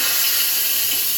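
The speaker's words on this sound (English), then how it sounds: "I'll just release the steam." Steam jets from a pressure cooker's release valve in a loud, continuous, broadband hiss that holds steady throughout, with no voices.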